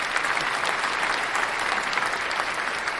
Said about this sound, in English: How about a round of applause for our wonderful guest, Dr. LaTonya Ware Davis?